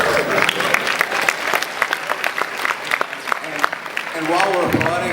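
A Comic-Con panel crowd in San Diego claps with distinct crisp hand claps in a busy, sustained burst. Voices rise under the clapping toward the end.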